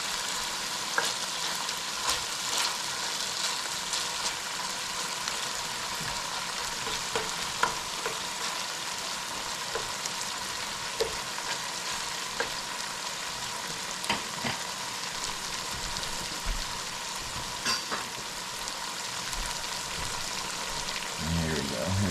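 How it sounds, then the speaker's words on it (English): Bitter melon (karela) fries in a pan with shrimp and dried salt fish, giving a steady, close, broadband sizzle with scattered pops and crackles throughout. "today in the Karela, we're putting in some shrimp and some dried fish"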